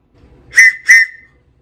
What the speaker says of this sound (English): Boy Scout whistle.